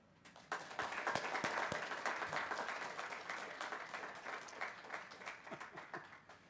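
At a technical institute's graduation ceremony, the audience gives families a rousing round of applause, a quiet but steady burst of many hands clapping that rises quickly and fades out gradually.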